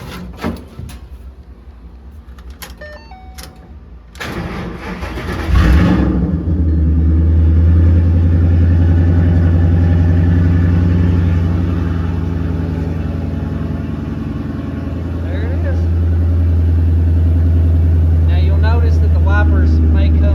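A Mustang with a swapped body cranks and starts for the first time since being cut apart. A short clatter comes first, then the engine settles into a steady, loud, low idle that holds to the end, with faint clicks near the finish.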